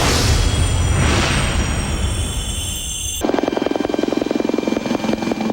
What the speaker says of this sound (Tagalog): Sa paglanding ng helicopter sa dambuhalang warship na USS Green Bay